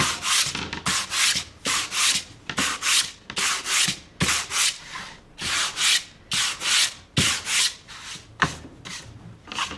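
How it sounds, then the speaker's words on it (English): Coarse sandpaper worked by hand over a painted, stenciled background, with quick rhythmic scratchy strokes in short clustered passes, close up and with no voices. "continue the sanding all the way up."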